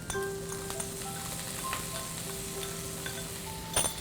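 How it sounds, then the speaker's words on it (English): Chopped garlic and spring onion whites and greens sauté in oil in a deep non-stick pan with a bright, continuous close sizzle, some faint clinks, and a sharp utensil knock near the end. "I'm going to add some oil, some finely chopped garlic, and lots of spring onion whites and greens."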